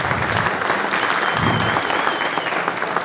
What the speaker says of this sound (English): We just want to give a round of applause quickly again to Mr. Alex Reed for joining us.